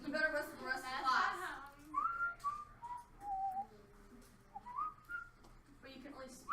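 A person whistles a string of short, wavering notes in a classroom setting, some held briefly and others rising or falling, with gaps between phrases and a voice talking at the start.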